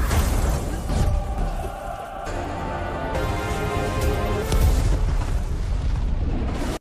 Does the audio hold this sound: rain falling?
no